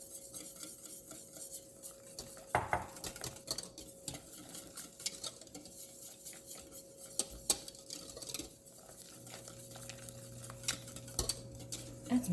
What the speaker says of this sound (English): I'm going to very quickly whisk this egg mixture